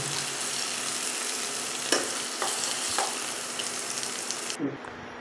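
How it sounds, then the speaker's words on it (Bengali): Potato and jackfruit pieces frying in hot oil, a steady close sizzle with a few clinks and scrapes of stirring, no voices. "আলু আর এঁচোড়টা ভেজে নিয়েছি"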